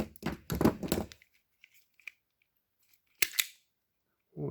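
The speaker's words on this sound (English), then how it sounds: "Cut the extra off." Wire cutters snip excess wire while plug-and-play wiring is run to a starter relay socket in an SW20 MR2 K-swap, giving two sharp close clicks after some handling noise.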